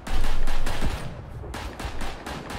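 Gunfire crackles from a firing line of soldiers in the Verdun trench video game, a loud dense volley of overlapping shots in the first second, then further bursts of rifle and machine-gun fire continuing steadily.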